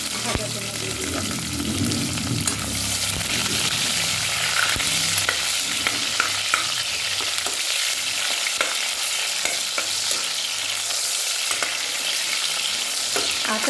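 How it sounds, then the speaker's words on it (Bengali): Onions sizzle steadily in hot oil for a Bengali mutton curry, a dense, continuous frying crackle with occasional sharp pops and stirring clicks close to the pan. "আর এই তেলটায় এবারে পেঁয়াজ ভাজা জন্য দিয়ে দিলাম।"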